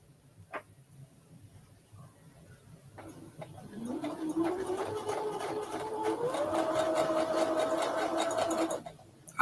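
A sewing machine stitches steadily and close by, its motor whirring as it speeds up and its needle ticking in a fast rhythm. A few soft clicks come before it starts, and there is no talk.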